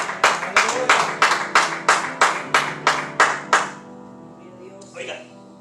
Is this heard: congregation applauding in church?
yes